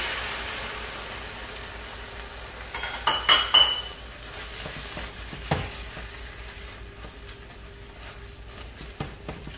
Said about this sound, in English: Scrape it up. Let the alcohol cook off.